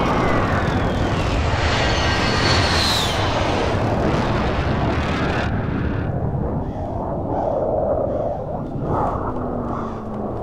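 A video game airstrike in Call of Duty Warzone: a loud, constant roar of aircraft engines and rumbling blasts, with a whining descending tone early on, fills the scene before easing slightly.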